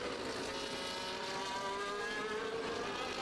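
Race cars in a racing video game at a Brazilian Grand Prix, a steady high-pitched engine whine from several cars overtaking, continuous and loud with shifting engine tones.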